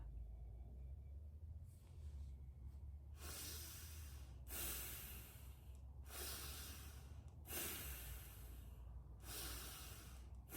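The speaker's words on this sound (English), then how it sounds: "Let's take 4 breaths, Bhastrika." Bhastrika pranayama bellows breathing: rapid, forceful breaths pumped in and out through the nose in about four loud, broadband bursts, close up and alone with no talking.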